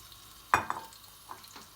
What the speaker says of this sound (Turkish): Şimdi yağımız burada iyicene eriyecek.